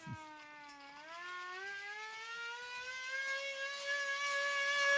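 Rising and wavering siren tone with stacked harmonics, reminiscent of a 1940s police siren, sweeping upward and growing steadily louder over several seconds, heard alone without talk.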